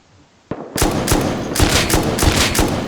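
Automatic gunfire in the online survival game Rust, a single sharp shot followed by rapid, loud bursts of close firing that continue without pause.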